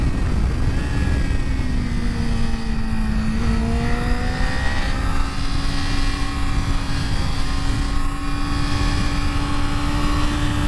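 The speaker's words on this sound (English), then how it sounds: "Love hearing that engine sing." A 2019 Yamaha YZF-R6 sport bike engine howls loudly and continuously under acceleration, its pitch dipping briefly and then holding a high, steady whine, with wind rush underneath and no talk.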